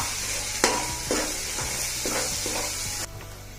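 Dry coconut powder stirred into a tomato masala frying in a pan, with a steady sizzle and several distinct scraping strokes at irregular intervals, close and moderately loud, with no voices.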